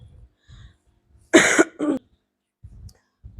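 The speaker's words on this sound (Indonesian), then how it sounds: "Sorry ya kalau ada batuk-batuk sedikit." Two harsh coughs sound close up, one after another, surrounded by quiet breathing and soft low rustles.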